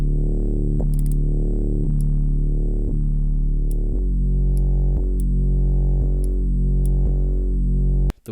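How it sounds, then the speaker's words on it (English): A simple FM bass synth (FM4) with a distorted effects layer and low-cut EQ plays sustained, buzzy low notes that retrigger about once per second, alone and loud, then cut off sharply at the end. "It's just an FM4. It's just a simple FM bass."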